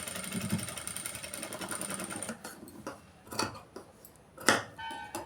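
A sewing machine stitches a designer blouse in a fast steady run of needle clatter for about two seconds, then stops and gives a few short bursts separated by quiet handling.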